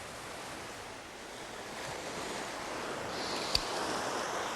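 Ocean waves wash steadily onto a sandy shore as a continuous broadband roar, with a single sharp knock near the end and no voices.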